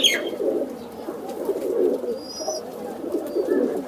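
Pigeons cooing close by in a loft, soft repeated low coos in an uneven rhythm with a brief chirp at the start and a faint whistle midway, no speech.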